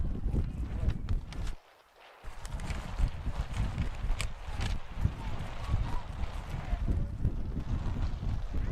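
Wind gusting across an outdoor youth soccer field, a loud, rumbling buffet on the microphone that drops out briefly and then returns, with faint play noise underneath.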